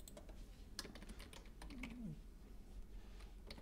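Faint keystrokes on a computer keyboard during an online literature class, a steady scatter of soft clicks over a low background hum with no talking.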